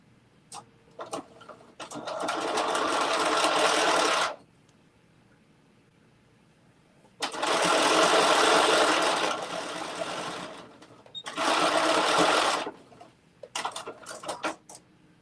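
A sewing machine stitches a bucket hat in long, steady runs of whirring, with pauses in between and a few short bursts near the end. No one speaks.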